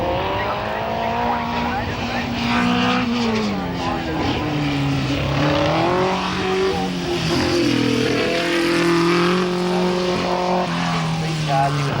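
A race car climbing the Collingrove hillclimb course at the 1994 Australian Hillclimb Championships, its engine wailing and rising and falling through gear changes, loud and sustained, with a commentator talking over it.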